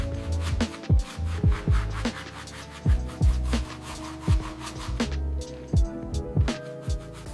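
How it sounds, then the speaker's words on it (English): Scrubbing the dirty forks of an abandoned 1973 Kawasaki Z1 motorcycle during restoration, with rhythmic rubbing strokes and repeated soft thumps of the brush, steady and close, with a low hum underneath. "Scrubbing the forks of this beautiful 1973 Z1."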